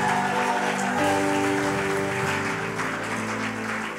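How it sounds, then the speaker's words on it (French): A church congregation claps and applauds, a steady dense wash of many hands that holds even and loud throughout with no breaks. "If you need to clap, clap well."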